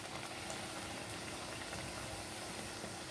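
Puris for pani puri deep-frying in hot oil, a dense, even bubbling hiss that stays steady and fairly faint throughout, with no voices.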